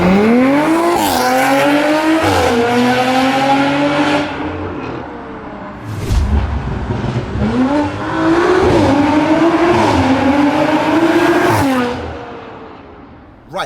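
Audi RS5 with 504 bhp launching hard, heard from outside: loud engine roar climbing through gears, a lull, then a second full-throttle pull rising and fading away, with no talk.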